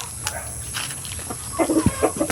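Several chickens cluck and murmur nearby in short bursts, growing busier toward the end over a faint background hum.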